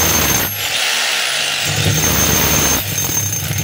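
A DeWalt D25033 rotary hammer runs in hammer mode after repair with a new front housing, armature, spindle and lever. It gives a loud, close, continuous rattling drone that drops off briefly twice before resuming.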